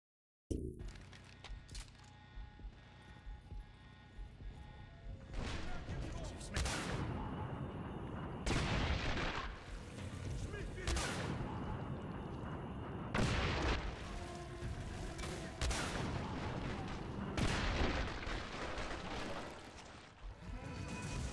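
Gunfire from the prototype E99 weapon in the video game Singularity: loud, dense bursts of shots and booms recur in waves over roughly twenty seconds, with no talk.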